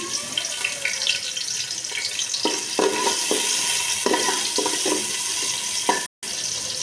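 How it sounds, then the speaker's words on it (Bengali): Chopped onion hits hot oil in a large pot for muri ghonto and sizzles loudly and continuously, with intermittent clanks and stirring knocks close by and a brief dropout near the end. "আমি দিয়ে দিলাম পেঁয়াজ কুচি"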